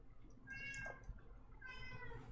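A house cat meows twice, close and clear, with a short gap between the calls, over a faint low background hum and no talking.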